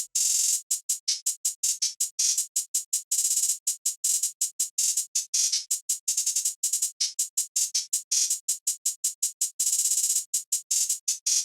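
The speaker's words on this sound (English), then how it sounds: "And now I'm gonna play the hi-hat pattern." A programmed hi-hat in FL Studio ticks in a fast, tight trap-style pattern, with quick rolls bunching the hits together; bright, dry and steady throughout.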